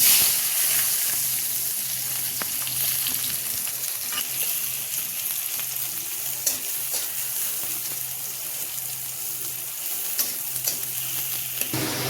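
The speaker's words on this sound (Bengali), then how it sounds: "এখন আমি তেলের ভিতরে দিয়ে দেবো পেঁয়াজ আর কাঁচামরিচ।" Onion and green chili fry steadily in oil with a continuous crackling sizzle and occasional stirring scrapes, close and fairly loud, no talking.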